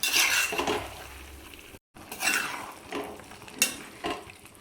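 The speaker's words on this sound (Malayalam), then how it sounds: "ഈ സമയത്ത് നമ്മൾ കഴുകി വൃത്തിയാക്കി വെച്ചിട്ടുള്ള ചിക്കൻ ചേർത്ത് കൊടുക്കാം" Chicken pieces are stirred in a cooking pan with a metal spoon, several separate close scraping and clinking strokes over a soft frying sizzle, no speech.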